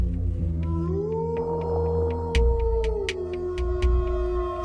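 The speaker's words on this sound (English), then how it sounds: "Soon a howl is heard" An eerie howl rises and holds in the night as an audio drama sound effect, long drawn-out tones that swell and bend in pitch, with sharp clicks and low rumbling beneath.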